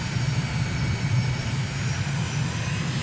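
A propeller aircraft engine drones in a steady, loud, continuous hum during a slow touchdown at about 99 knots in Microsoft Flight Simulator, on a recon flight over Belgrade, Serbia.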